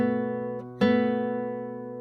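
On classical guitar, two strings ring out together, then a second plucked pair enters sharply and sustains with a slow fading decay, close and clean with no talking.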